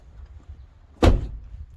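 A Ford F-150 truck door swings shut once with a single solid, loud thud close by, followed by a short fading rumble against quiet background noise.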